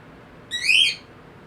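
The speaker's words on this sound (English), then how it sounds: "The birds are also excited for recording." A single bird call, a short bright whistled chirp rising and then falling over about half a second, heard fairly close and alone against a quiet, low background hum.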